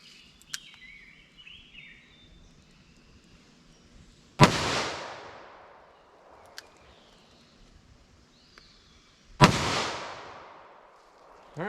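Two sharp, loud gunshots several seconds apart from a 2-inch revolver firing Fiocchi CovertX .38 Special +P rounds outdoors, each a hard crack with a trailing echo, and birds chirping faintly in between.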